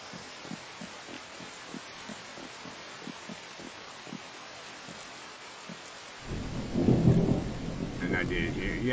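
Rain and thunder in a video game: a steady hiss of rainfall with soft regular pulses, then a deep rumbling thunder roll swells up near the end, no talking over it.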